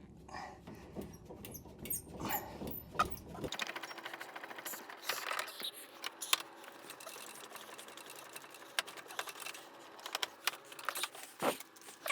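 An auto-cut tool slicing through plumbing pipe inside an interior wall during a shower remodel, making a steady, busy buzz dotted with small clicks and ticks that runs for the whole stretch at a modest level.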